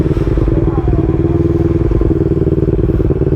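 Motorcycle ridden along a rural route toward the Agos River falls in Infanta, Quezon, its engine a steady close drone with some clatter throughout.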